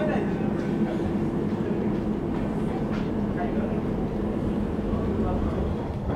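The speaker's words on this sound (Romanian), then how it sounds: "Foarte ok să mergem cu metroul ăsta." A London Underground metro train in motion, heard from inside the carriage as a steady, loud rumble and rattle of wheels and car body throughout, with faint voices underneath.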